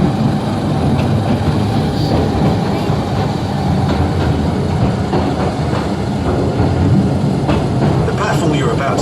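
The Royal Mail Mail Rail ride train rolling along its narrow underground track at the Postal Museum in London, a loud continuous rumbling roar with rattling clatter and squeals, near and unbroken.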